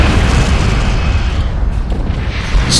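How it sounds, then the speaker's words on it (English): A torpedo salvo detonates in the space combat game Star Trek Online, a loud continuous boom with deep rumbling that holds for the whole stretch and fades slightly near the end. "Swing round and have another torpedo salvo."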